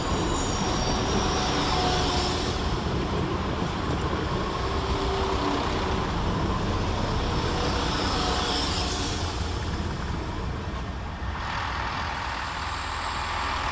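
West Midlands Railway units 172213 and 172215 work through Worcester Shrub Hill station, a steady, loud rumble of diesel engines and rolling wheels with swelling passes and a slight drop near the end.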